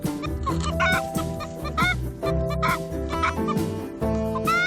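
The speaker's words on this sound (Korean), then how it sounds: "계란을 뺏기는 게 싫은 암탉은 울기 시작한다" A hen clucks repeatedly and loudly up close as her eggs are taken, agitated bursts of clucking with other fowl sounds layered in.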